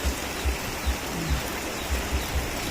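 Rain pours steadily, a dense even hiss of falling water with soft low thumps recurring every half second or so beneath it, no talking.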